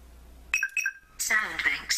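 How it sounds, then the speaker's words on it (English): An MB-Sabers Graflex lightsaber gives a few quick, bright electronic beeps when its slide switch is held down. A voice then starts talking over the quiet that follows. "simply hold down on the slide switch until you hear a beep"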